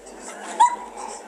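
A dog with a cat lets out one short, high whimper in the middle of a quiet stretch, close and moderately loud, with no talk.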